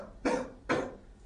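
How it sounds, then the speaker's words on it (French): Two short, soft coughs in quick succession during a cardiovascular exam, close by, with quiet pauses around them. "Je vais vous demander de tousser un petit peu."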